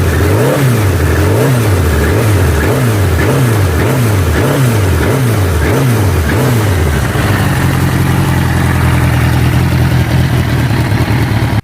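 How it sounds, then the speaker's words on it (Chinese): A Suzuki GSX-R750 sport motorcycle with an air- and oil-cooled engine revs up and down in a quick, regular series of close, loud blips, then settles into a higher steady drone. "我们再听一下发动机声浪。"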